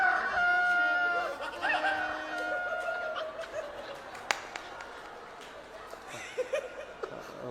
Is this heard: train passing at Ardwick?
no